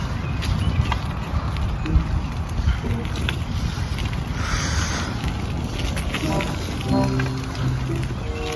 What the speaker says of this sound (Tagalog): Tuloy-tuloy kasi yung ulan eh.